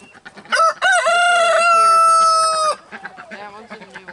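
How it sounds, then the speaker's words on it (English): Rooster on a farm crowing once, loud and close, a long drawn-out call lasting about two seconds, with softer clucking and farmyard noise around it. "That one's a new one. That's a rooster."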